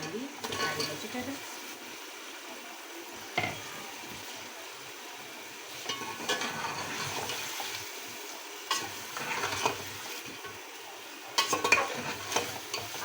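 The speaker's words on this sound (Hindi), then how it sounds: "और अब इसमें मैं डालूँगी सारी वेजिटेबल।" Vegetables tipped into hot masala in a pot and stirred, giving a steady sizzle and frying hiss with scraping stir strokes and a few louder clatters throughout.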